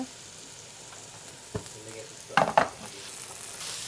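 Cubed pieces fry over high heat with a steady, close sizzle, broken by a couple of louder stirring scrapes and clatters partway through.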